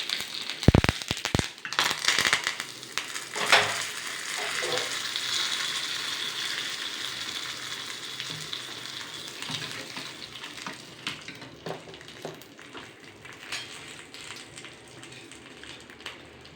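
Dried red chilies and curry leaves sizzle as they temper in hot oil, a steady crackling fry with a few sharp pops and stirring clinks near the start, then settling into a gentle hiss.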